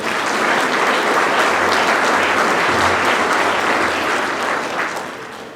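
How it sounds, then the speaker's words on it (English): Round of applause for speakers at a Black Heritage gala: a thick, even roar of many people clapping, loud and unbroken, tapering slightly in the final second. "Let's give another round of applause for our speakers tonight."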